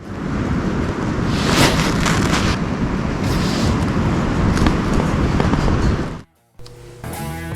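Strong wind buffets a hiking tent, a loud, continuous rushing roar with gusty surges and fabric flapping that cuts off abruptly near the end before resuming more quietly.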